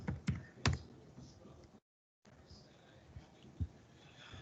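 Keys tapped on a computer keyboard while entering a number: a few sharp, close clicks early on, a short silent gap, then sparse soft taps over a low background hiss.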